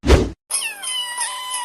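A cat meows once in a drawn, wavering tone after a short loud thump, the call sliding in pitch and sounding close and clear.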